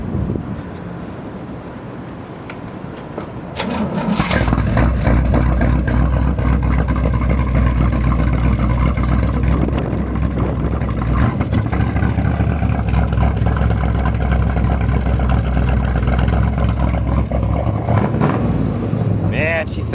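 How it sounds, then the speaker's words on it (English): A 1963 Corvette roadster's 327 V8 with a 340 cam and chambered exhaust, no mufflers, starts up and idles loud and close with a lumpy, throbbing rumble, steady after a quiet opening. "Chambered exhaust, guys, is no mufflers. Just comes straight out."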